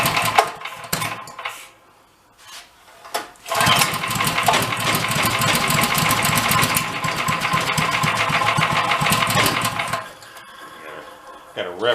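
A dune buggy engine, just after a valve adjustment, starts up on choke and settles into a loud, steady running drone for about six seconds. It then cuts out abruptly.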